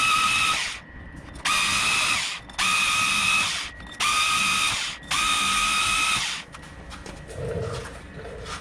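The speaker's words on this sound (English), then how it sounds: "I've got a special tool for cleaning around these studs." A power cleaning tool scours the hub around the wheel studs of a Nissan Rogue during a rear brake job. It gives four loud, rattling, whirring bursts of about a second each, separated by short pauses, then quieter scraping at the end.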